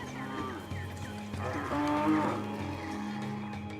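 Cattle low with a drawn-out moo, heard clearly and fairly close over a soft outdoor background, the call swelling in the middle before fading.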